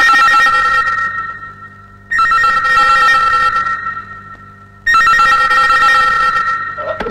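A telephone rings in loud repeated bursts, each long trilling ring separated by a short pause, close and clear with no voices.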